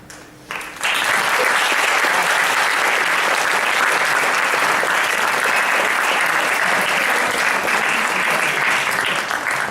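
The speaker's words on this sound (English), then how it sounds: "Let's give another round of applause to this guy." Sustained, loud applause from an audience at a donut-themed event, a dense wall of clapping that starts abruptly after a brief quieter moment and continues evenly throughout.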